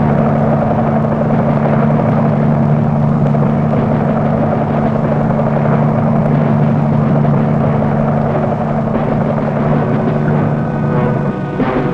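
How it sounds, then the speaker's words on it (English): Gunship helicopters, flying alongside armed Navy patrol boats, give off a loud, steady engine drone and rotor roar that runs unbroken for the whole stretch with no talking over it. "Armed Navy patrol boats and gunship helicopters answer the challenge."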